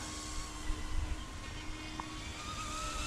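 An Eachine E200S UH-60 RC helicopter, attack version, flying over a small park, giving a steady distant motor whine and rotor hum with no talking.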